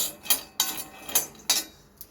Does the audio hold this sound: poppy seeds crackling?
yes